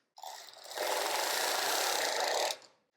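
A Passap Duomatic 80 knitting machine knits a single row, a steady mechanical whirring rush of the carriage lasting a couple of seconds, close and alone.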